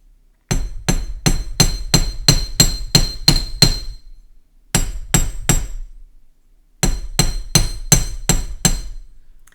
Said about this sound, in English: I'm just going to go and tap the sides to taper the wire